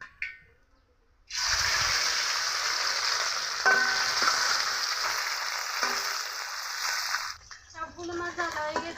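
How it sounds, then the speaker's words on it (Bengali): The rest of the tiny kachki fish start frying in oil after a quiet opening: a loud, steady sizzle with small crackles runs for several seconds, then gives way to clattering kitchen handling. "বাকি মাছগুলোও এভাবে ভেজে নিব"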